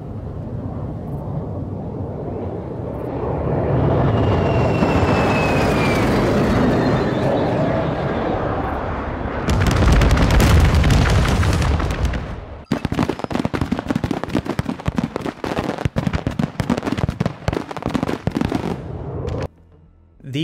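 A stealth bomber killstreak in Modern Warfare 2 sweeps overhead as a rising jet roar, then a long run of loud, rapid explosions pounds in close succession near the listener.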